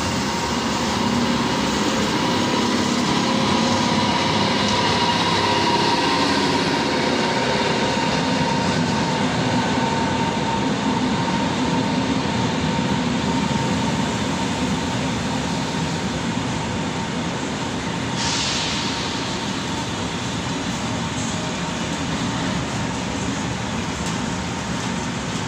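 An Intercités train pulls into Le Havre station, a loud steady rumble of rolling wagons and wheels lasting throughout, with a brief higher squeal or hiss near the end.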